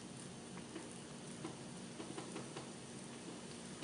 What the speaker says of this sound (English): after much anticipation, it's boiling now